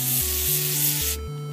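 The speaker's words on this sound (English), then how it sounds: "Take my WD-40 and spray it on the rag only." Short hissing burst of WD-40 sprayed onto a cleaning rag while refurbishing an NES console, a close, steady spray lasting about a second before cutting off.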